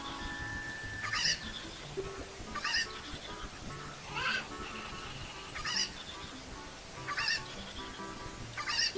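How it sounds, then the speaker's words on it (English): Cucco chickens in Ocarina of Time let out repeated squawking, honk-like calls every second or so. Each cry is loud and clear over a low game background. "Super chickens."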